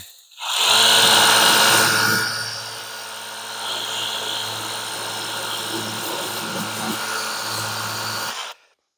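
A Ryobi 600 psi electric pressure washer with a 15-degree nozzle roars loudly into a hissing spray on a lawnmower deck, easing into a steady, slightly softer rushing drone that cuts off abruptly.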